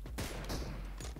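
A single loud M24 sniper rifle quick-scope shot in a mobile battle-royale game, a sharp close crack with a short tail, followed by a fainter second report.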